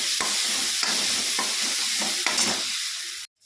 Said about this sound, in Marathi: हे आलं लसूण पेस्ट आता छानपैकी परतून झालेली आहे